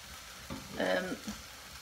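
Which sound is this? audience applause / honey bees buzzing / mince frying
mince frying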